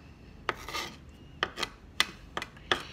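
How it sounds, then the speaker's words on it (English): Chopped tomato being scraped off a cutting board into a bowl while making guacamole, heard as several short raspy scrapes spaced about half a second apart, close and fairly quiet. "get your cutting board with all the tomato on it and just scrape it into the bowl"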